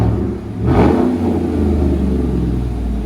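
A lifted 2015 Chevy Suburban LTZ with a 5.3L V8 and Dynomax dual exhaust revs once sharply, then settles into a loud, deep, throbbing rumble close by.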